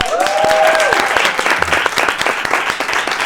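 Steady, loud audience applause for a guest on a live evening talk show, with a brief whistle-like tone rising early over the continuous clapping.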